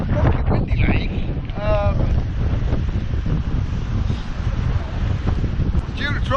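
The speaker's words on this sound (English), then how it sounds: "It's a bit fucking windy, like." Strong wind buffets the microphone at a lakeside carp fishing swim, a steady loud roar running throughout with brief faint voices or calls near the start.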